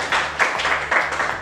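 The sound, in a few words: applause in a classroom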